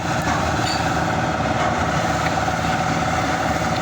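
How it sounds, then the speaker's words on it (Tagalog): A steady, continuous engine rumble from an idling truck, loud and close, with a constant low drone throughout and no voices. "Ingay ng truck"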